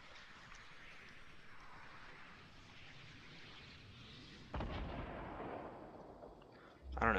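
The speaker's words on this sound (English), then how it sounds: "I don't know who they were shooting that at, but I hope it wasn't me" Distant gunfire in the Fortnite video game, a low rumbling burst that swells midway and ends with a louder, closer crack near the end, over faint background ambience.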